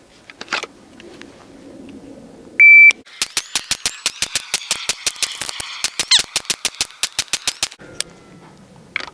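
A shot timer on a pistol dot-drill training range gives a sharp electronic start beep, then a rapid, regular string of loud, crisp gunshots follows, with quieter ambient noise before and after.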